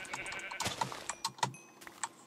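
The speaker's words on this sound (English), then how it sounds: "That's a sheep?" A sheep in the Minecraft video game bleats in a few short, faint, wavering cries, scattered among small clicks and other quiet game sounds.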